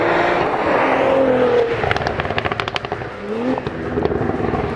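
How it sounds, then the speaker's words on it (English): A 2022 Cadillac CT4-V Blackwing sport sedan engine running: a loud, steady roar that breaks into a rapid run of crackling pops before settling back to a droning hum, with no voices. "While this monster motor is very much appreciated, it does not overwhelm the driving experience."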